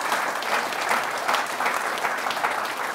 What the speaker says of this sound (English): Can we give a big round of applause to Leslie and the college for what they're doing?